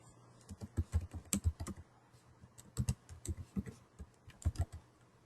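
Computer keyboard typing, a Maven command being entered: several bursts of quick, close key clicks separated by short pauses, no voices.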